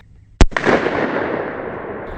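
A .357 Magnum revolver firing a CCI shotshell loaded with number 9 shot, one sharp loud outdoor report followed by a long decaying echo rolling away over about two seconds.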